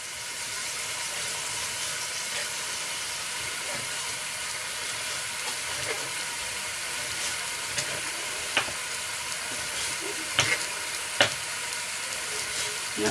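Bacon fries in a pan with a constant close hiss and sizzle, and occasional sharper crackles and pops stand out near the end. No one talks.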